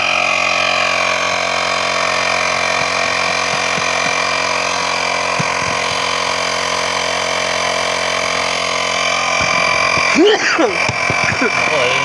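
A portable air compressor runs off a motorcycle battery during an e-bike/e-trike rim swap to a 300x10 alloy rim. It gives a steady, close, unbroken droning hum throughout, with a short burst of clatter near the end.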